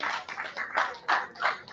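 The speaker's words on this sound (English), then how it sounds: "I would expect you to be clapping by now." Audience at a Rotary Club installation ceremony clapping, a close, dense patter of hands swelling in short bursts over about two seconds, with no talk.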